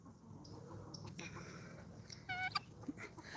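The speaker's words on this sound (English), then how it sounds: "you can't talk around this doggone goose for nothing" A goose at a rural homestead lets out a short burst of honks, a few quick harsh calls close together over steady low background noise and rustling.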